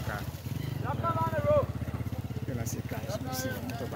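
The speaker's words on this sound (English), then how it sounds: "Motorbikes flying." Motorbikes buzz past on a road with a throbbing, pulsing engine drone under continuous nearby talk.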